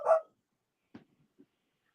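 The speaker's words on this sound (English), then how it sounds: "my dog is being more vocal than before" A dog gives a single sharp bark nearby at a New Year's Eve gathering, followed by a couple of faint, soft yips and then quiet.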